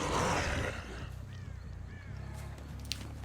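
Crows caw in a dead-by-daylight-style horror video game, a couple of rasping calls over a low rumbling ambient drone after a loud opening burst, moderately near and fairly faint.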